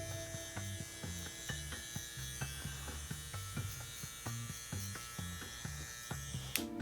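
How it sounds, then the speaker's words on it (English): An electric hair clipper buzzes steadily during a haircut, its motor hum broken by a rhythmic series of short cutting pulses as it passes over the head, fairly close and with no talking. "I'm gonna hover half of that clipper off of the head"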